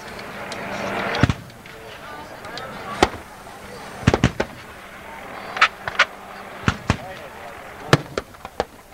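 Cannon fire at a 1998 Gettysburg Civil War reenactment: a series of sharp, booming reports at irregular intervals, some close together, ringing out over a low outdoor background.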